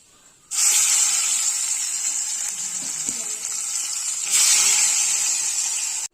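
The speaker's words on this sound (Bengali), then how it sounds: "বাদ বাকি মাছগুলো ভেজে নেব একইভাবে।" Hilsa fish pieces dropped into hot oil start a loud, sudden hissing sizzle that holds steady. It swells again partway through as more pieces are added, with no voices.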